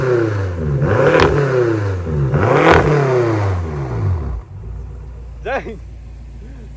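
A BMW F10 M5 with a muffler delete revs hard twice in long, loud rising-and-falling sweeps, then settles to a lower idle as a voice briefly exclaims nearby.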